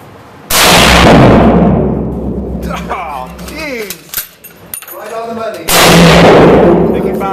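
Two loud, sharp Mosin Nagant rifle shots fired at a 100-yard target, each ringing out with a long decaying tail, spaced about five seconds apart. People talk between the blasts.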